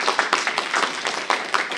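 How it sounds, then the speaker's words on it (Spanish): Audience applause at a poetry book presentation, welcoming the panel guests: a moderate crowd of separate hand claps, loud and close, keeping an uneven rhythm for nearly two seconds. "Gustavo Tizoco y el doctor Antonio Requeni, para quienes pido un gran aplauso."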